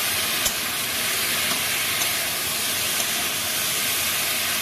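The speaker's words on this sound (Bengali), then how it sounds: "এখন এগুলোকে ভালো করে ভেজে নিতে হবে" Broad beans and potatoes fry in hot oil, giving a continuous, even hiss and sizzle that is loud and close throughout, with no voices.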